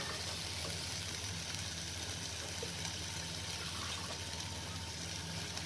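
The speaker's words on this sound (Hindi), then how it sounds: "हल्का सा इसमें थोड़ा सा पानी डाल दीजिए।" Water poured into a pan of simmering egg curry gravy, a steady continuous gushing splash that holds at an even level throughout, with no talking.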